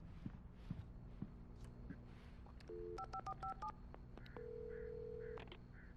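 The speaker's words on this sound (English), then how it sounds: "Let's use this phone." A telephone is dialed in Alan Wake Remastered: a short run of distinct keypad tones beeps out the number, followed by a sustained ringing tone, quiet and close, after a few soft footsteps.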